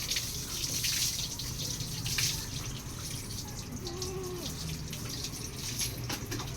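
Water is poured over a cow during washing, giving a steady splashing, running-water sound at moderate level with no talking.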